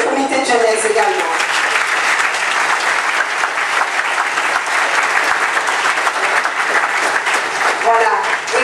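An audience gives a full, loud round of applause to a youth committee at an evening gathering. The dense clapping rises quickly and stays strong and steady for several seconds, with a few voices briefly heard near the start and the end.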